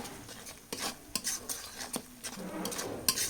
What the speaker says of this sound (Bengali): এখন মশলাগুলো খুব ভালোভাবে কষাই নেব এগুলা দিয়ে।